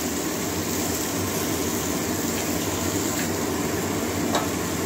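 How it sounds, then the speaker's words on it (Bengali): Spice paste sizzles and fries steadily in a pan as it is sautéed and stirred for a cauliflower-stem curry with potato and eggplant, a dense, even crackle with faint scraping and no talk. "ভালো করে মানে মশলাটা একটু কষাই নিতে হবে না করে, এই জন্য একটু ভালো করে কষাতে হবে।"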